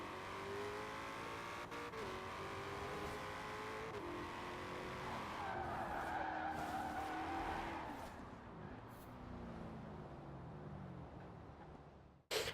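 A Ford Deluxe is driven fast in the racing game Forza Horizon 4, its engine droning and rising in pitch with tires squealing through turns. It stays steady and fairly quiet before a sharp thump right at the end.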